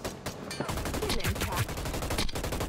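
Shooting in the video game HyperScape, with rapid bursts of gunfire crackling close by, sharp repeated shots over a busy mix of game noise.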